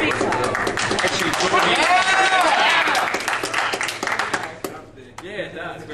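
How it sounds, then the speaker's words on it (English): A crowd at a Fall Out Boy appearance with two of the band members in Queensland, Australia, in February 2009 claps and cheers loudly and densely, with excited voices mixed in, before the noise thins out near the end. "We'll just give him a big round of applause."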